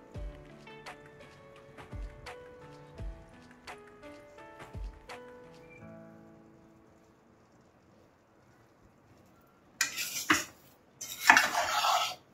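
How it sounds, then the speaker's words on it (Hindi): A spoon stirring gram flour roasting in ghee in a pan, a run of rhythmic metallic scrapes and taps against the pan, then a pause before two bursts of louder scraping and rustling. "देखिए बेसन को हम बार बार चलाते रहेंगे नहीं तो लग जाएगा।"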